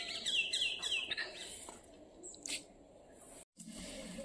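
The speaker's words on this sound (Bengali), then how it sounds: "আর একটা ঘুঘু পাখি কিন্তু গাছে গাছে ডাকছে, শুনতে পাচ্ছ?" A dove calling from trees in a rural yard, with bird chirps and calls up close early on, then fainter scattered calls over a quiet outdoor background.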